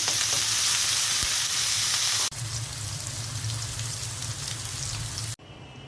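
Bitter gourds sizzle and fry steadily in a pan, a dense, continuous crackle that briefly dips and resumes louder, with green chillies in the mix, cutting off abruptly at the end.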